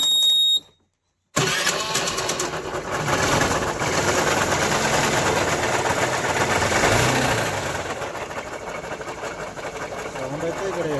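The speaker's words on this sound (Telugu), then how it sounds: "ఒకసారి స్టార్ట్ చేసి చూపిస్తాను సౌండ్ ఎక్కడ వస్తుందో" A Honda Activa 125 scooter with its seat storage open starts after a short pause and idles steadily close by, a mechanical ticking from a faulty camshaft in the cylinder head running through the drone, with someone talking over it.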